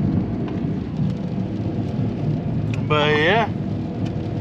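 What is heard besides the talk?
rain and thunder during road trip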